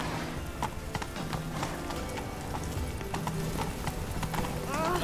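Roach the horse galloping in The Witcher 3, rapid rhythmic hoofbeats clip-clopping steadily and close throughout, with game ambience underneath and a brief whinny-like tone near the end.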